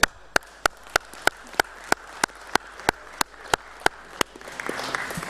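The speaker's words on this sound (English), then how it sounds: "it probably deserves a round of applause from all those present" During a full council meeting, slow, evenly spaced claps ring out one by one, about fourteen sharp separate strikes in a steady rhythm, fairly close and alone over quiet room tone before a soft rustle rises at the end.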